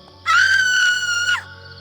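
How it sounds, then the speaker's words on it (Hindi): A woman's loud, sustained high-pitched scream rises sharply and holds for about a second before breaking off, set against a dark animated horror story scene with a low ambient drone underneath. "औरत की चीख हवा में गूंजती है।"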